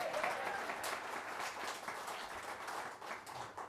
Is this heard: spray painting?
no